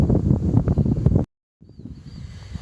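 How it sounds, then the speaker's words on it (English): Breezy wind on the open prairie near beehives, gusty buffeting rumble against the microphone that cuts out briefly, then returns more softly with faint rustling. "it is breezy, a little windy out here, as always on the prairie"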